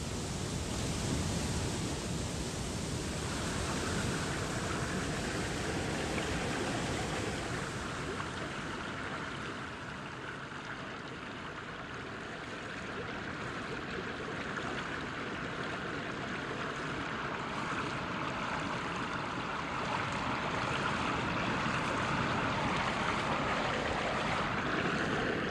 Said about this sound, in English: Listen to the stream, its movement, its noise.